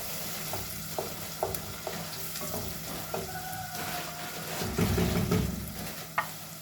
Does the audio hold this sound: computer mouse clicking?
no